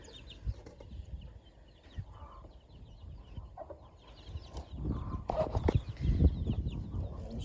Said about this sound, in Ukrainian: Там у нас воно ходить індюшата маленькі.